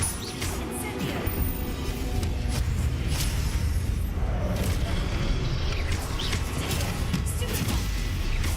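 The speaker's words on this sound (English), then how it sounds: "Incendio." An Incendio fire spell cast during combat in the video game Hogwarts Legacy, with whooshing bursts and impacts over a continuous, dense wash of battle noise.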